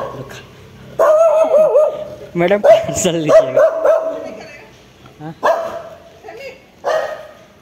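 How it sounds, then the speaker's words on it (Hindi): A dog barks repeatedly at a delivery person's arrival, loud and close, in bursts of yapping barks and whines, while people talk over and between the barks. "और एक कुत्ता"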